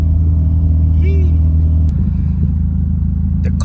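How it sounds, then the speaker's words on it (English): Car engine with a straight downpipe exhaust idling close by, a loud, steady low rumble with a sharp click midway, while someone talks over it. "The car is running pretty good."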